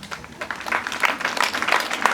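An audience claps for a head girl at a school event, a close, dense burst of applause with uneven scattered hand claps throughout.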